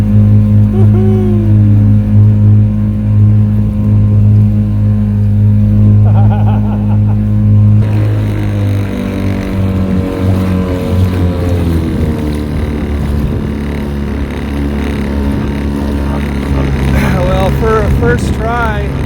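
A 1.2 hp outboard motor on a kayak drones steadily at close range, its pitch shifting and rising as the small boat turns, with water splashing toward the end.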